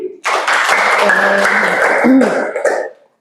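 Applause and clapping from a classroom or meeting audience for a person named Alim, a dense sustained burst lasting about three seconds before cutting off, with some voices mixed in.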